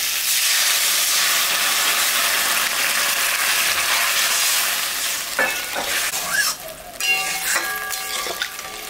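Water poured into a pan of fish-head and potato curry hisses and sizzles loudly and steadily, then breaks into sputtering bursts and crackles as it settles, with some clinks near the end.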